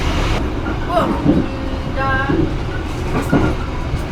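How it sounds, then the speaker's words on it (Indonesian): A commuter train between Probolinggo and Pasuruan, Indonesia, rumbling past up close, with rattling, squealing wheel tones and brief tonal whines over the steady rail noise. "Ini kereta api komuter lain"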